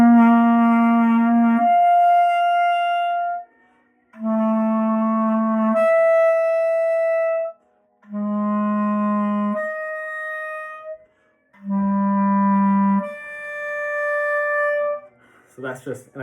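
A saxophone alternates sustained low and high notes in turn using the octave key to cross the break, each held a couple of seconds with short gaps, clear and close.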